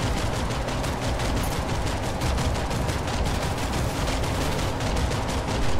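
An aircraft nose cannon in Planetside 2 fires in rapid, sustained bursts, a dense loud rattle of shots filling the whole stretch with no talking.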